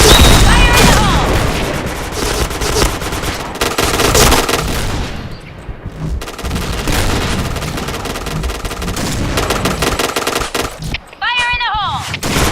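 Rapid gunfire in a shooter video game, loud bursts and automatic volleys with booming impacts, briefly dropping away midway and resuming, game voice callouts mixed in.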